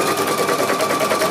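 Pfaff sewing machine stitching embroidery on a lattice structure, a rapid steady mechanical chatter of needle strokes with a faint whine, close and continuous.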